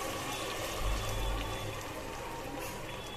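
Water from a glass is poured into a pan of vegetable pulao on a gas flame, heard as a brief steady splash and gush in the middle of the clip. The pour rings close and sits over a low hiss of sizzling with no voices.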